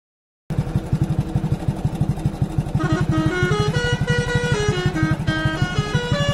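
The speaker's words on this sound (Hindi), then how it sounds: "इन ट्रकों की सिटी जोरदार होती है ना, मस्त होती है ना, ये तो कैसे बजाते हैं ये तो।" A truck's engine chugs steadily close by while a loud musical horn plays a rising and falling tune of bright repeated notes over it.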